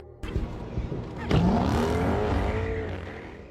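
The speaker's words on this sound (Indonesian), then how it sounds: "pergi dengan mencuri mobil" A stolen car speeds away in a film scene from The Devil Comes to Kansas City, a sharp impact followed by a loud engine roar and rising acceleration, close and sustained.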